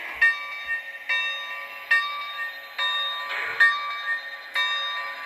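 Electronic bell effect from a Lionel toy steam locomotive (LionChief Plus 2.0 or Legacy): a bright, ringing clang repeats about once a second, each strike decaying into the next in a steady rhythm.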